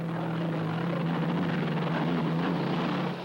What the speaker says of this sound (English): the turbine-powered boat out of Seattle, Washington